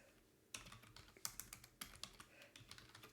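Rapid typing on a computer keyboard, quiet after a short pause, then irregular bursts of sharp key clicks with occasional louder taps, close and alone.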